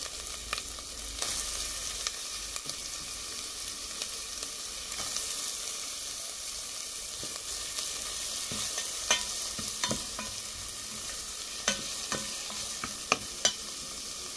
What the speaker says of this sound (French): Là, je viens de mettre une noix de beurre dans ma casserole. Et pendant que la noix est en train de fondre, je viens rajouter de l'oignon que j'ai émincé